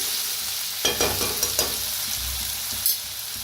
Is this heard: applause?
no